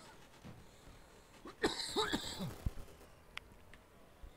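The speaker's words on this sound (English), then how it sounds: "Apologies, coughing in the mic." A man coughs a few times near the microphone, short rough bursts with a throat-clearing sound, faint game noise and a few clicks around it.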